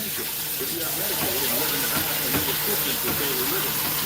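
Tap water runs steadily into dogs' water bowls, a continuous close splashing stream with faint voice-like sounds underneath.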